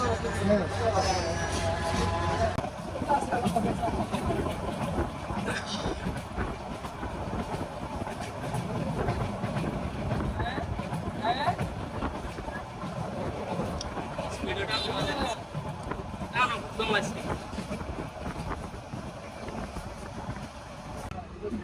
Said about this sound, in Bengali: বিজয় এক্সপ্রেস ট্রেন কুমিল্লা থেকে ছেড়ে যাচ্ছে